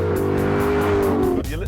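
Alfa Romeo 8C Competizione engine and exhaust on the overrun, a loud close snarling exhaust note that drops in pitch and ends in crackles, with a voice talking over it.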